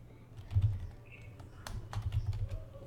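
Keys are tapped on a computer keyboard to enter a Linux mount command, with scattered sharp clicks over a low background rumble and a slight pause partway through.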